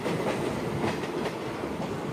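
A DEMU passenger train runs steadily along the rails between Panyam and Kurnool, giving a continuous loud rumble with a faint rhythmic clatter of wheels throughout.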